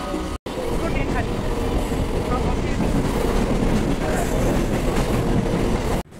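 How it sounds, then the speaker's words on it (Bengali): Inside a moving suburban train near Uttarpara, a steady loud rumble of wheels and carriage noise that continues throughout, with a brief break near the start and end and voices mixed in. "আমরা এখনও ট্রেনে"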